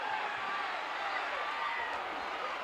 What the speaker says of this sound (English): Listen to the noise from that crowd here